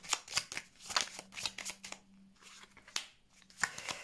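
Tarot cards being shuffled and laid out, with crisp riffling bursts and flicks interrupted by brief pauses, close but fairly soft and with no talking.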